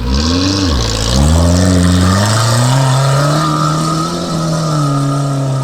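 A Suzuki Samurai off-road car engine revs hard close by, pitch climbing after a brief dip and then holding a loud, strained drone.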